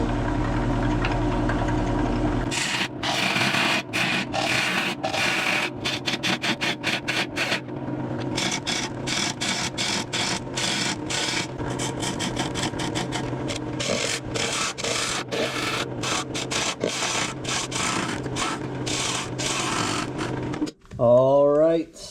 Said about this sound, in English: So let's make our finishing cuts, make it a little more concave, then we'll be done turning.